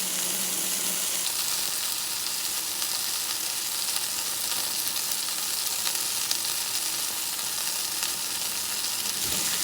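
A cooking torch sears peppercorn-crusted scallops for blackening, a constant close, loud hissing roar with faint sizzle that holds steady without a break.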